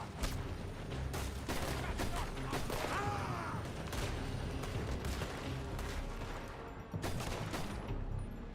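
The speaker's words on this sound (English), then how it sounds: "They're shooting from that building" Gunfire pours from a building in Red Dead Redemption 2, sharp repeated shots and crackling volleys going on steadily, a voice calling out briefly partway through.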